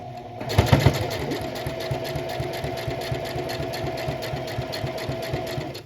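A sewing machine stitches a pocket onto a tote bag, its needle chattering in a fast, even mechanical rhythm that starts with a few heavier thumps and then runs steadily, close and clear.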